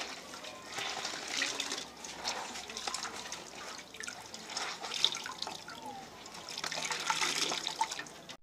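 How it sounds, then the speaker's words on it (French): A stained dress being rinsed in water, with steady splashing, sloshing and trickling throughout, close and moderately loud, with brief drips standing out. "Là maintenant je fais le rinçage."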